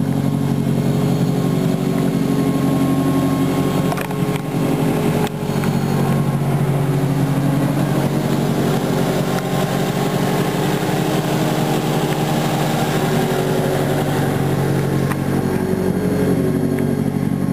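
Toyota All-Trac car with an aftermarket exhaust, recorded from outside: a steady, loud engine idle with a continuous exhaust drone, close by and unbroken for the whole stretch, with no talk over it.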